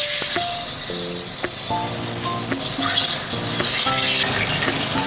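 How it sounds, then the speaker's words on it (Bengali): Hilsa pieces fry in hot mustard oil in a kadai, a steady bright sizzle running throughout, with a musical backing playing over it and no talk. "কড়াইতে সর্ষের তেল গরম হয়ে গেছে, এবার চলুন মাছগুলো উল্টে পাল্টে ভেজে নিই।"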